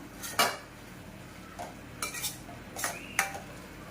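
A spoon stirring tomato curry in a pan gives a handful of separate metallic scrapes and clinks spread across a few seconds, close and fairly quiet, with no voices.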